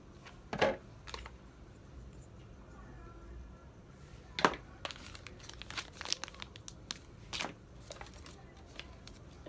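Packaging of a Rode VideoMicro compact on-camera microphone crinkles and rustles in scattered sharp bursts, close but fairly quiet, with soft handling noise in between.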